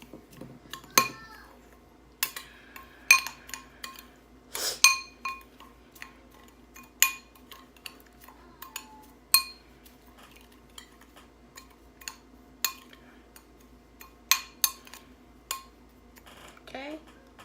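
A spoon scraping and clinking against a bowl while seafood boil sauce is mixed, with irregular sharp taps spread over the whole stretch and a quiet low hum beneath.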